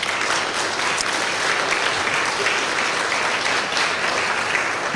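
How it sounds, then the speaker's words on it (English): A church congregation applauds at a Sunday service, steady, full clapping from many hands that continues evenly throughout at a loud level. "Let's give them a round of applause."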